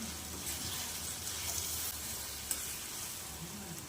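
Tomatoes and potatoes sauté in a pan for mussel curry, a steady soft sizzle with occasional stirring scrapes and a faint clink, close and quiet throughout.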